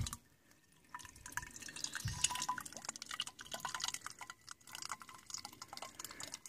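Water from a 500-foot ram pump hose splashes and trickles into a container, a faint, close, irregular dripping and pouring that fills in after a quiet first second.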